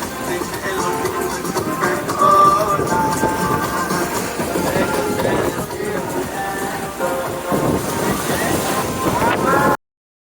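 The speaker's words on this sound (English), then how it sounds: "The echoes of the waves crashing against the rocky walls created a soothing melody" Loud waves surge and crash against rocky cave walls, a continuous rumbling wash with swelling bursts, resonant and close.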